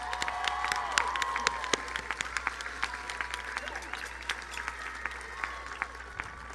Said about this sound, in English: Please join me again in a round of applause